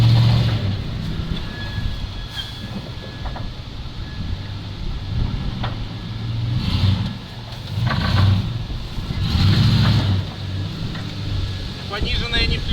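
A ZIL truck engine is pushed at full throttle with a heavy, close rumble that swells into several throaty surges before settling back.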